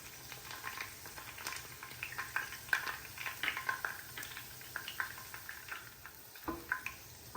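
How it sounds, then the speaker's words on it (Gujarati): Curry leaves dropped into about five spoons of hot oil for a cereal chivda snack, giving a soft, close crackle and sizzle with small sharp pops scattered throughout. "અને હવે આપણે મીઠો લીમડો પણ એડ કરી દઈશું."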